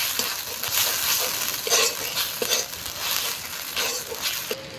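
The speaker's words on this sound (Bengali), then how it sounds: "এবার ভালো করে একটু কষিয়ে নিই।" Spice masala is stir-fried in a pan for Bengali doi katla, a steady close sizzle with repeated scraping strokes of a spatula against the pan and no talk.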